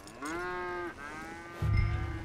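A cow in the video game Red Dead Redemption 2 gives one long, clear, close moo with a steady pitch, followed by a softer second low moo over faint ranch background noise and a brief rumble near the end.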